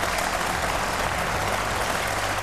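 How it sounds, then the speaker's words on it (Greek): Standing New Democracy members of the Greek parliament applaud Kyriakos Mitsotakis in the chamber, a dense, sustained wash of many clapping hands, loud and unbroken. "Όρθιοι βουλευτές της Νέας Δημοκρατίας χειροκροτούν τον Κυριάκο Μητσοτάκη."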